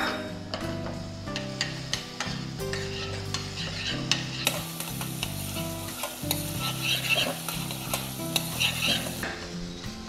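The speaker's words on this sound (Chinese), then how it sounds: "首先我哋會炒咗洋葱先啦" Chopped onions sauté in about a tablespoon of olive oil in a pan for asparagus risotto, a steady frying sizzle under repeated clinks and scrapes of a utensil stirring, continuous and close throughout.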